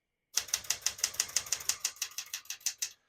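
Typing on a 1975 Smith-Corona Galaxie 12 portable typewriter: about fifteen crisp key strikes in a quick, even rhythm, close up and alone in a quiet room.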